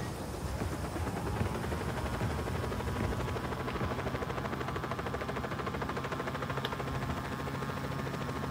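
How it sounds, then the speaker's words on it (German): A helicopter air-dropped in Just Cause 4 whirs with a steady, dense rotor and engine drone that stays even for several seconds at moderate loudness. "Einen Hubschrauber kann ich mir liefern lassen."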